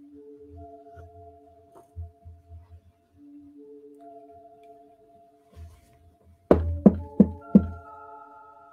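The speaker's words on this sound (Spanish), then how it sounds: "Tocan la puerta del pastor." Four loud, sharp knocks on a door come in quick succession near the end, after faint low thumps and sustained tones of an eerie musical backdrop.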